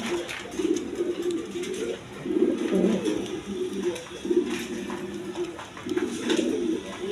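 Farm pigeons coo in repeated low throaty bursts, several phrases separated by short pauses, close and clear with faint background noise and no speech.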